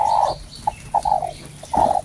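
Hens clucking in a backyard coop where chicks have just hatched, a few short throaty calls in separate bursts, close by with no talking.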